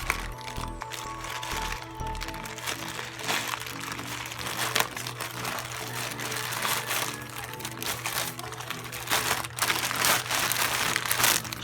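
Plastic shipping packaging from an online order for a wig and contact lenses being torn open and handled, with steady crinkling, crackling and rustling close by and no one speaking.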